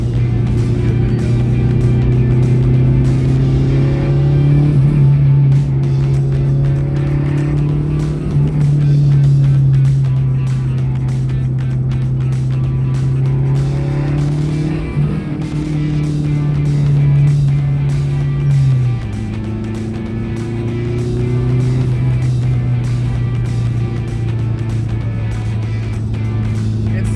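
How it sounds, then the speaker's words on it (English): A gutted car with a turbo runs steadily while driving, its engine drone droning close and loud with shifting pitch, the turbo flutter blended into the continuous rumble. "I hope you guys can hear the turbo flutter. The turbo flutter sounds good."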